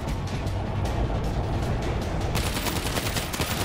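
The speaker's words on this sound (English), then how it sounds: "Stationary machine gun." A stationary machine gun firing in the zombie shooter World War Z: steady, rapid, loud bursts, evenly spaced, that carry on through the whole stretch and turn denser toward the end, with no talking.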